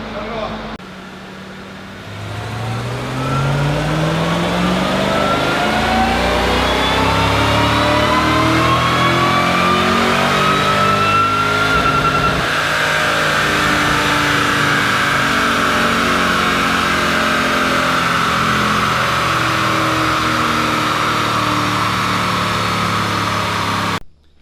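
Roush Stage 3 supercharged 4.6-litre 3-valve Mustang GT engine, freshly built and not yet broken in, revving up from idle with rising supercharger whine, then holding a loud sustained high-rpm drone before cutting off.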